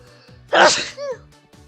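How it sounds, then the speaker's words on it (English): One sharp, loud human sneeze with a quick inhaled buildup, followed by a short vocal exclamation. "Hang on, I'm about to sneeze."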